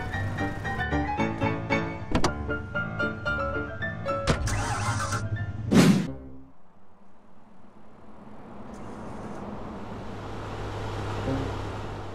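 A car in GTA San Andreas starts up and idles with a low steady engine hum, while music plays and thumps earlier and a broad hiss of road or wind noise follows.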